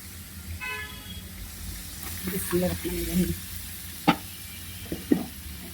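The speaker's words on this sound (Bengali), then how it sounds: "এই তো আমার মশলাটা কষানো হয়ে গিয়েছে, এখন আমি দিয়ে দিব খাসির মাথা।" Goat head pieces dropped into fried spice paste in a pot, giving a soft sizzle with a few scraping stirs and knocks near the end, alone without talk.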